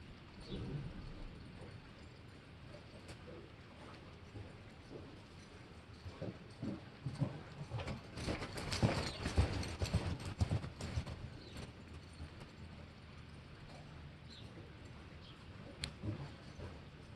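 Horse hooves clop steadily on the ground at a walking pace, moderately close, with faint background noise and no talking.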